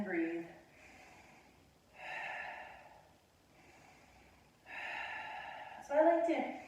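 Deep, slow breaths in and out during a core stability exercise, heard close as repeated airy inhales and exhales, ending with a sharper snort-like breath.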